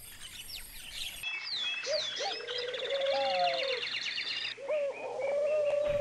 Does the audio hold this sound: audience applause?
no